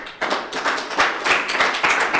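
A conference audience at an NPA event applauds, a dense, fairly loud clatter of many hands clapping continuously for a couple of seconds, with no speech over it.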